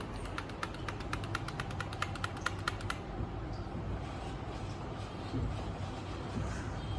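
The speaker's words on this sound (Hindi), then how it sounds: "ये मैंने USB कीबोर्ड भी लगा लिया है।" Quick, evenly spaced key taps on a USB keyboard plugged into an Acer Aspire 5733 laptop, about three seconds of crisp typing over a steady background hum that carries on after the keys stop.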